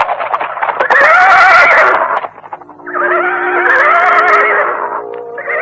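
Horses of a band of riders whinny and neigh loudly in a radio drama sound effect, two long close whinnies with a faint clip-clop of hooves beneath, with no voices.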